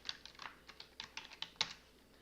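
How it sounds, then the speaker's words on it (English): Quiet, close typing on a computer keyboard: an irregular run of light keystrokes with one sharper tap near the end, no voices. "So now if we type in Stephanie"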